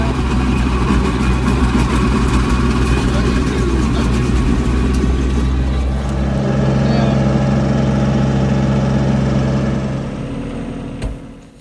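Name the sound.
Kubota B2650 tractor running a Wood Mills WG24 stump grinder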